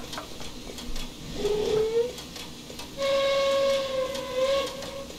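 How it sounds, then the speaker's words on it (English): A steam locomotive whistle sounds in Train Simulator Classic, a short rising toot followed by a longer sustained blast over a low rumbling engine background. "All right, the whistle."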